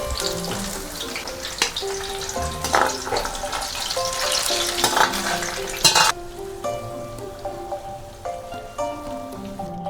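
Aromatics sizzling in hot seasoned oil for Chinese dumplings, a steady crackling fry with occasional clinks and stirring scrapes of a utensil, close and moderately loud.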